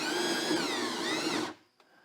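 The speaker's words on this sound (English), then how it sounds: "I love these step drills because you can just stop and look and see where you're at." A step drill bit bores a half-inch hole in a gas can, a loud, close whining drone with shifting pitch for about a second and a half before it stops abruptly.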